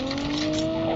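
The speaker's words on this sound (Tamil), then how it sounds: "வண்டி ஒன்று இன்னும் சுத்துதானா?" A vehicle in Call of Duty Mobile drives nearby with a steady, loud engine hum and tonal whine over one continuous second, no talk over it.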